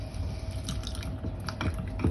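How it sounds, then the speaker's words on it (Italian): Water trickles slowly and unevenly from a glass onto a spoonful of flour in a kitchen, making faint dripping and liquid patters over a soft background. "Prendiamo un bicchiere, versiamo il cucchiaio di farina e poi a filo versiamo a poco mezzo bicchiere d'acqua"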